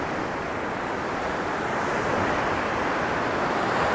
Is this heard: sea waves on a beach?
yes